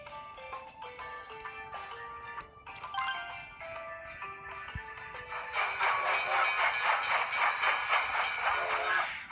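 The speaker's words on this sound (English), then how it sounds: "Here you can see the train pulling into the station, and it's carrying supplies." A Township game train sound rolls in with whistle-like tonal chimes, growing louder into a hissing, clattering wash as it pulls into the station.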